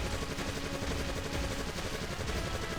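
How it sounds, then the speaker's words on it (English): Dense, continuous video game gunfire in MDK2 rattles without a break, rapid shots blurring into a loud noisy roar. "Now I got more gunfire on it."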